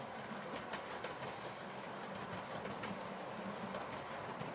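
A Hornby model train runs around a layout track with a continuous faint clickety-clack of wheels over rail joints, steady and unbroken, with no talking.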